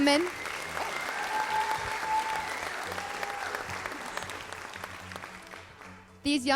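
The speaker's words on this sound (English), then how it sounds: "Let's give our candidates one last round of applause." Sustained applause from a large audience at an ambassador coronation pageant, steady and dense for about six seconds, with a voice briefly audible near the end.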